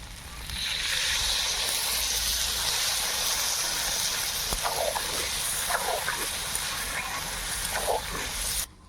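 Water poured into a hot spiced pan for dudh paneer rice hisses and steams in a steady, loud broadband rush that runs nearly the whole clip, with a few faint clinks near the end.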